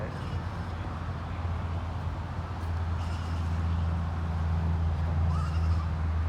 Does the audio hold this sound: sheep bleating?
yes